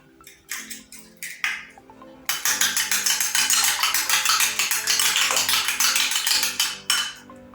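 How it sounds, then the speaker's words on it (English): A utensil beats eggs into a batter for mandazi inside a bowl: a few separate clinks, then a long steady run of quick rhythmic tapping and scraping against the bowl, close and fairly loud. "So go ahead and beat in your eggs one by one."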